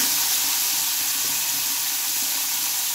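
Chopped yardlong beans land in hot oil already tempered with black cumin and a dried red chilli, giving a loud, constant sizzle with faint stirring underneath.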